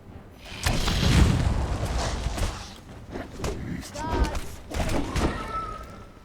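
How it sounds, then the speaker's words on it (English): Explosions from arrow shots in the video game Conan Exiles, a few booming thuds spread across the clip between softer impact sounds, with someone talking. "I don't think the explosion damage does that much to them."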